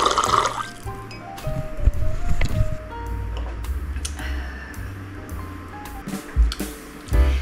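Water is poured into a glass in a home, with a gurgling fill, scattered drips and light clinks against the glass, close by and intermittent over several seconds.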